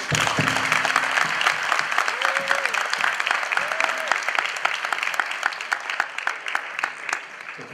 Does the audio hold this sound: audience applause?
yes